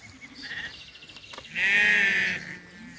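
Lambs of six to seven months old, sold as Tatalar breed livestock, bleat: a couple of short calls early, then one loud, long, wavering bleat close by, with softer animal noise after.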